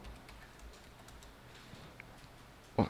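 Quick, fairly faint keystrokes as a business registration number is typed on a computer keyboard in an accounting class, followed by a louder single thump at the end.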